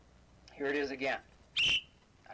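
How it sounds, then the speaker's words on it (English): A single short, sharp whistle blast sounds after a brief spoken phrase, loud and close, followed by a quiet pause. "The whistle will be your signal to change to the next slide."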